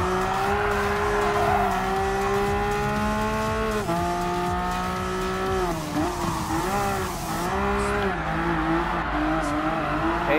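A race car in Gran Turismo Sport carrying speed through a final grip turn, its engine a loud, steady tonal drone that dips and bends mid-corner, then climbs again, with faint tire noise and no talking.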